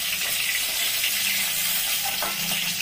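Vegetables sizzle steadily in hot oil for bitter gourd curry, a dense even frying hiss throughout with faint stirring underneath and no talking.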